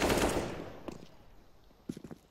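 A short burst of gunfire fired through smoke in Counter-Strike on the Mirage map, an initial loud volley fading, followed by a few quieter, spaced shots near the end.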